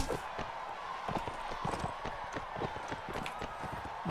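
Galloping hooves drum in a Mount & Blade: Warband tournament fight, a continuous fast clip-clop rhythm at even loudness across the whole stretch, with no voices over it.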